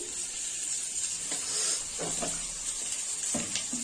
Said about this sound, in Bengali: আলুটা ভাজতে দিচ্ছি, লবণ দিচ্ছি।